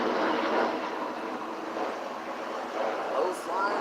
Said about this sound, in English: Low flying Southwest jet.